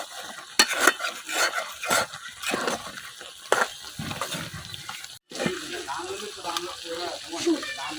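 Spiced fish head is stir-fried until dry, with repeated spatula scrapes and clacks against the pan over a low sizzle and a brief break near the middle.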